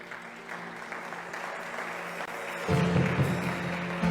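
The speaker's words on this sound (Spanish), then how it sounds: "Dale un fuerte aplauso a Jesús" A congregation at a Spanish-language church service applauds for Jesus, a broad wash of clapping that swells noticeably louder partway through and carries on steadily to the end.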